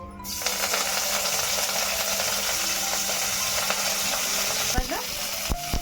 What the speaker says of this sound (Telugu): కరివేపాకుని వేసుకుందామండి